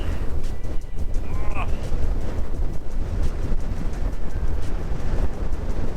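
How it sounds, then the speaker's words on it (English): Strong winter wind buffets the microphone in loud, gusty roars while breaking trail in Quetico Provincial Park, with a brief faint voice-like sound caught in the blustery noise. "It's a windy one."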